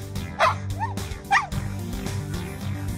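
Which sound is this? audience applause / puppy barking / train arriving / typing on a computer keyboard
puppy barking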